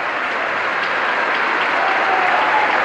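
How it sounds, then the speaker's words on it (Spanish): A packed crowd in the Paul VI Audience Hall at the Vatican applauds Pope Francis, a loud, continuous wash of massed clapping filling the large hall. "El aplauso en esta sala"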